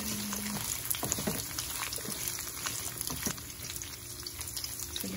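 Baby corn and green beans frying in a pan for a vegetable jalfrezi, a steady soft sizzle and crackle with scattered pops, close and fairly quiet, no talking.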